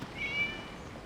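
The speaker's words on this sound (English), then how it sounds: "It was just a cat." A cat gives a single faint, thin meow lasting under a second in a Genshin Impact cutscene set in Inazuma, over a quiet ambient background.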